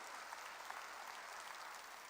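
A church congregation claps during a sermon with steady, dense applause that sounds distant and soft and holds evenly throughout.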